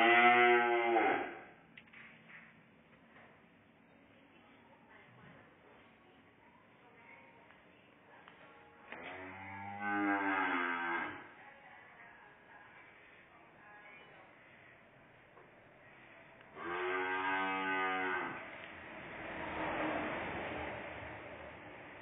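French cream cattle and calves on a farm let out three loud, drawn-out moos spaced several seconds apart, with quiet stretches between them.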